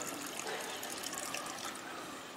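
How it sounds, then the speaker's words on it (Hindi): Water is poured into a glass in a steady, unbroken stream, soft and fairly close, running the whole time with no talk over it. "आंशिक बल होता है जैसे ये अपन ने गिलास में पानी डाला"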